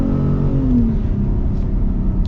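A Ford Raptor pickup with an EcoBoost engine accelerates hard from a cruise, its loud engine note climbing in pitch as it revs up, heard close from inside the cab with no talking.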